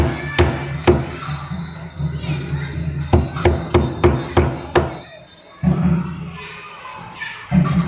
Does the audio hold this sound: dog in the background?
no